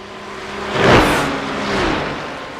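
A GT3 race car engine from a racing video game, a Ferrari chased by an Audi, swells to a loud whining pass with a falling pitch, then fades into a steady engine drone.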